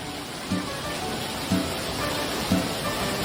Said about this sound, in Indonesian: When it's raining like this, you don't really need an umbrella.